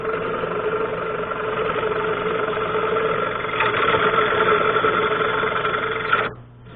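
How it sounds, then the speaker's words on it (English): A wood lathe spins under load as a bowl gouge cuts, producing a steady, loud mid-pitched motor hum with a rough scraping edge, then the machine abruptly bogs down and stops near the end, leaving quiet. "That would have been a catch. But my belt tension's low enough that the lathe just stopped."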